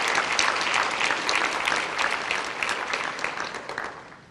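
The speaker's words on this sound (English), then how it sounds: "I want to give them a round of applause for everything that they've done in the organization" An audience at a breakfast event for the Alzheimer's Association bursts into loud, sustained applause, a dense wash of clapping that tapers off toward the end.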